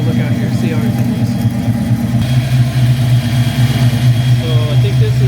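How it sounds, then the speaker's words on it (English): A 5.0 HO Foxbody Mustang V8 fitted with Holley Terminator X fuel injection sits at a cold idle, a loud, steady, throbbing rumble that continues unchanged throughout. "So I think this is just the cold idle"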